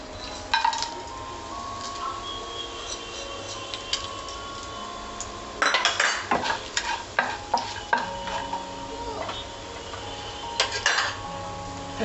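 Spices frying in oil in a kadai for mushroom masala: a steady soft sizzle with scattered metallic clinks and stirring scrapes of a spoon against the pan, clustered around the middle and end.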